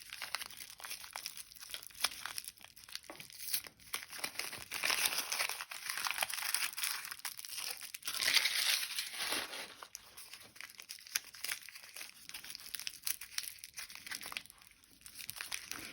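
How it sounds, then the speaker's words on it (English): Paper crinkling and crumpling close up, a continuous rustle that swells and fades over the whole stretch, with no talking. "I'm going to make annoying noises with this paper"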